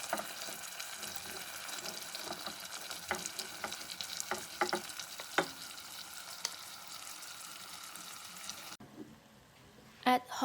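Potatoes and drained rice sizzle in oil with sesame seeds in a pot, a steady close frying hiss with occasional crackles and pops that drops off sharply near the end.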